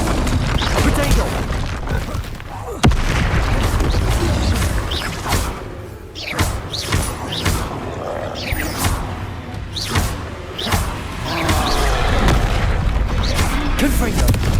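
Confringo blasting-spell explosions in Hogwarts Legacy boom repeatedly at irregular intervals, heavy and close within continuous battle noise, with a voice speaking over them.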